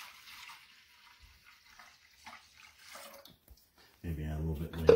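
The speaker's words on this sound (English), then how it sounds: "We're going to add some filtered water to that." Filtered water poured into chicken broth in a crockpot, a steady close splashing pour beginning near the end after quieter talk.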